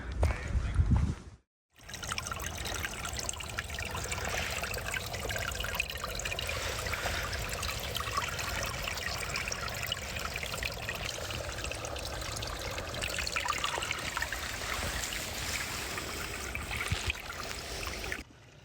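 Water trickles and splashes steadily from a spring beside a rock at Woods Hole shelter on the Appalachian Trail, a continuous close, moderately loud flow after a brief pause near the start.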